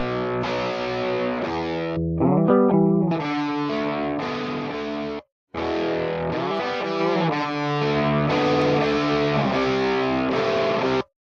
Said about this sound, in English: It has some presets as well for different types of distortion.